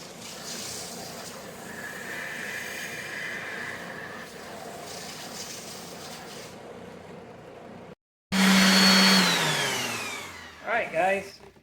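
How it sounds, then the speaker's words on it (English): A palm sander roughing up wooden parts for a Christmas sled, giving a steady whirring buzz for about eight seconds, then a brief pause and a louder, closer burst of sanding that quickly winds down. "I'm going to take my palm sander and just rough these up a little bit"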